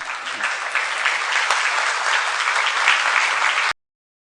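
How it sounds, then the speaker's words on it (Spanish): Loud, steady applause from a sizable audience, continuous for several seconds before cutting off abruptly. "les tributamos un fuerte aplauso de bienvenida"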